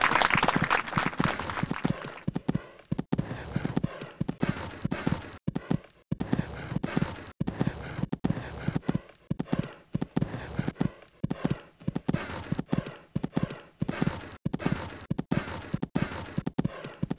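Steady rhythmic hoofbeats of a horse cantering in a dressage test in the Equestriad 2001 horse game, crisp repeated clops close up, continuing evenly with no talk.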